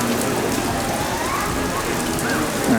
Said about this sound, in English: Rain is one thing. Slanted rain, I'm sorry.